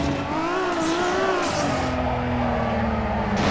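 Engine tones rise and fall with tyre screech as cars drift in the mobile racing game Drift Legends 2, a steady loud whine that sweeps and shifts pitch throughout.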